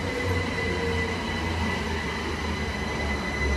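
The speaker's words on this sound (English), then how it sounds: "train that's calling at the station." A train calling at Welwyn North station rumbles steadily nearby with a low, continuous drone and faint rail hiss, no voices.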